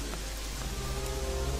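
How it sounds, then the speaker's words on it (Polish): Rain falls in the video game Gothic 3, a steady dense patter of drops with a low ambient hum beneath it and no talk. "Dobra, widzę, że deszcz pada."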